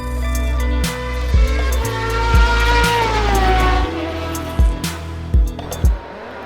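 A Tatuus USF17 single-seater race car in rFactor 2 revs hard on the grid and launches at the race start, its loud engine note climbing through stepped gear changes with sharp shift blips, heard up close with no talk.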